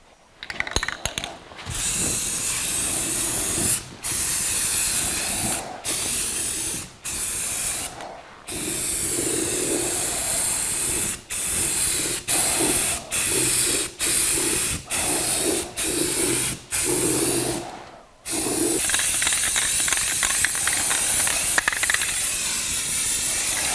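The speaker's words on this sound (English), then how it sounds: "I'm just painting the area that had the surface rust." Rattle-can spray painting of self-etching primer on the rusty undercarriage of a 1982 Jeep CJ7 tub, loud close hissing bursts repeated in a steady series with brief gaps between sprays.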